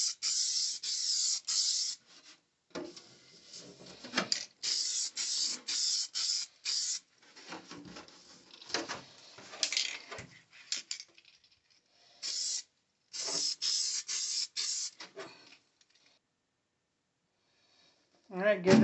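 Spaz Stix holographic color change paint sprayed from an aerosol can onto a Tekno MT-410 RC truck body, a series of loud hissing bursts of varying length separated by short pauses, ending with a brief faint rattle.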